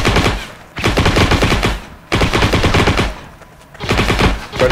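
Machine gun fire from an MP40 in the video game Heroes & Generals rattles in three loud, rapid sustained bursts separated by short pauses.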